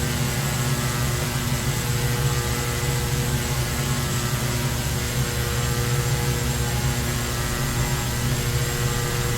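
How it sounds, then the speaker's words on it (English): A Carenado B200 King Air twin turboprop lands in the X-Plane 11 flight simulator, arriving at Stornoway. A steady, moderately loud engine drone holds throughout with no voices. "Bit of a bump landing."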